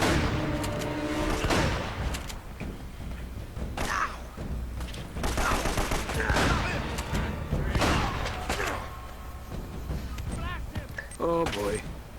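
Gameplay from the video game Uncharted with a thudding grenade explosion and bursts of gunfire amid mechanical clatter, moderately loud and dense, while people talk over the action throughout.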